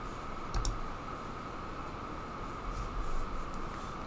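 A few faint computer mouse clicks sound over a steady hiss, a pair early on and a couple more later, picked up quietly at a desk during web design work.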